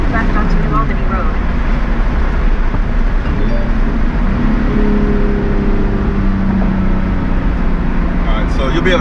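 A Porsche 911 GT3 fitted with a race exhaust drones at about 4,000 RPM from inside the moving car, a loud, steady engine rumble with road noise while a navigation voice and a person speak over it.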